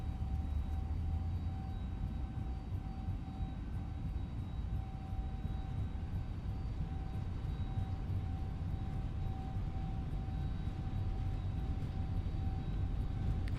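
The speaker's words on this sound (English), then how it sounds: "Rolling down the runway." Airliner on its takeoff roll down the runway in a flight simulator game, a steady broadband engine roar with a constant high whine, held at an even level throughout without any voices.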